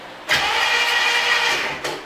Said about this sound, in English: So I want to turn it over and see if anything